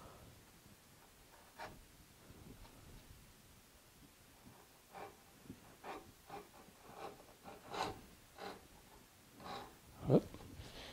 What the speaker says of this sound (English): I suppose that's another way you can cut a dado, is just use a chisel like this